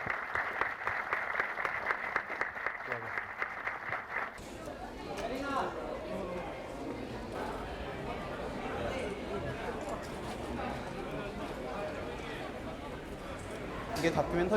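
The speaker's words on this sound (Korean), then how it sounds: "이 두 분께 건투를 비는 큰 박수로 오늘 GV에 맺도록 하겠습니다" A post-screening audience at the Busan film festival applauds the guests to close the talk, a broad, moderately loud wave of clapping that follows several seconds of voices and continues steadily.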